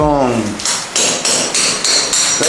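Workers drilling into concrete at a construction site in Phuket, Thailand, a loud, close hammer drill pounding in rapid, evenly spaced bursts after a brief voice at the start.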